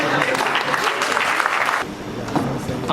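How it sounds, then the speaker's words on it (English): Audience applause after a speech at a celebration of Nigeria's 20th year of democracy: dense, sustained clapping that drops somewhat in loudness partway through and then carries on more thinly. "I think it deserves another round of applause, please"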